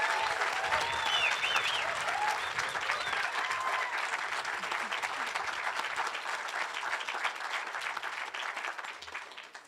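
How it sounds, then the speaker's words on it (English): An audience at a school awards ceremony applauds the boys, sustained dense clapping that stays loud and even for the whole stretch before easing slightly at the end. "We are going to give all of our boys a grand applause again."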